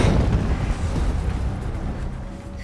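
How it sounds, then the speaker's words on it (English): Explosion in the video game Horizon Zero Dawn, a deep rumbling boom that stays loud and sustained through the whole stretch, its low roar slowly easing toward the end. "An explosion."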